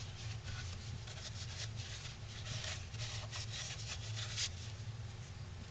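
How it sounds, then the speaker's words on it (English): Rubbing wax into the string groove on the back of a carved wooden ventriloquist dummy gives a steady close scratchy friction, with a continuous dense rasp over a low hum and no talk. "Then in the back, where our string goes across, we're going to wax that up a little bit"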